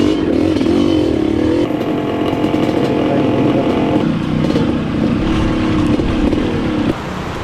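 Motorcycle engines drone and rev steadily in the rain, loud and close, with a rough whine shifting in pitch over continuous road noise.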